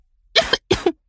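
A person coughs twice in quick succession, close and clear, each cough a short sharp burst with no other sound around it.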